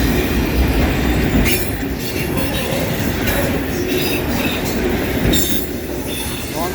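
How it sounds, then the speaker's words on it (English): A long CSX freight train of autorack cars rolls steadily past close by, its wheels rumbling and squealing on the rails in a continuous loud roar with bursts of high metallic screech. "Long line of autoracks."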